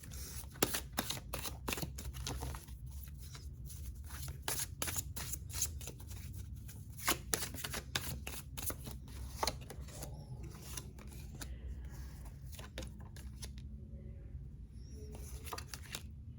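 Oracle cards being shuffled by hand in repeated quick riffling bursts, close and fairly soft, with short pauses between runs and no talking.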